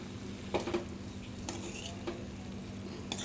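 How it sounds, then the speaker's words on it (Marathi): Mayonnaise sauce being stirred into a vegetable filling for veg creamy cheese pockets, with soft wet stirring and a few light clinks of a utensil against the bowl, close and fairly quiet over a steady background hum. "यामध्ये थोडंसं मेयोनीज सॉससुद्धा टाकलेला आहे हा सुद्धा मी मिक्स करून घेणार आहे"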